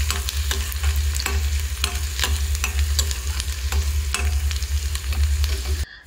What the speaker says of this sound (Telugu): దంచి పెట్టిన 4 వెల్లుల్లిని కూడా వేసుకొని ఉల్లిపాయల్ని బ్రౌన్ కలర్ వచ్చేంత వరకు ఫ్రై చేసుకోవాలి